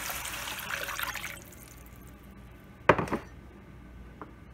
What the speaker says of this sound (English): I will add water, at least 2 cups.